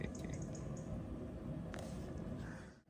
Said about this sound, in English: That water's still boiling.